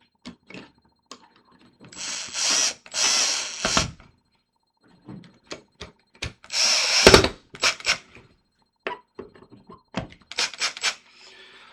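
Screws tightened into a commercial door lever with a power drill, sounding in short close bursts and longer whirring runs separated by pauses, with scattered handling clicks.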